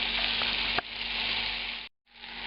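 Floured chicken or veal cutlets sizzle loudly in a hot pan for saltimbocca. The steady crackling frying hiss runs nearly throughout, with a sharp pop near the start and a brief silent gap before the sizzle resumes.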